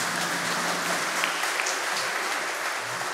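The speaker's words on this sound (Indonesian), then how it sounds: "Kita beri tepuk tangan dulu." A church congregation applauds during Easter Sunday Mass, a steady, dense wash of clapping from a large crowd that fills the whole stretch evenly without a clear break.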